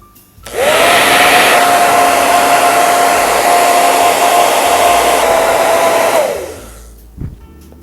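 A handheld hair dryer blows over a nautical-themed mosaic, switching on into a loud, steady whirring rush that holds for about six seconds before winding down and cutting off.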